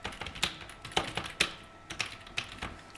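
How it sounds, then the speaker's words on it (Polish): Someone types on a computer keyboard during a casual livestream, irregular clusters of sharp clicking keystrokes heard up close with no speech. "Wpiszę tylko tutaj ważną rzecz."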